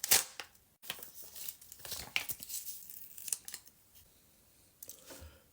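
A package of nasal breathing strips is torn and crinkled open, making sharp ripping bursts and crackly plastic rustles, close but fairly quiet, with no speech.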